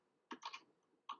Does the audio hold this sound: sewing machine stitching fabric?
no